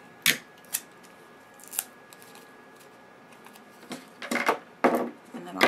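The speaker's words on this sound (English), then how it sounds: "And then I'll trim this with my scissors." Scissors trim paper and twine on a craft tag for a jar, sharp close snips heard as several separate crisp cuts, then a quicker cluster of snips near the end.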